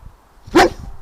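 A single sharp, close bark from a dog that has been playing with a wheelbarrow outdoors, standing out clearly against quiet background noise.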